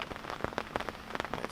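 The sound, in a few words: rain falling at a lake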